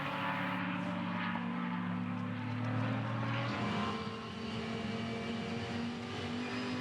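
GT race cars race on the Queensland circuit with a dense, continuous engine roar and several layered tones that shift in pitch as they accelerate, steady and fairly loud, with no commentary heard.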